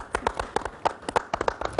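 Audience applauding two singers on a television talk show, sparse individual claps in an uneven rhythm, fairly close and moderately loud, with no talking.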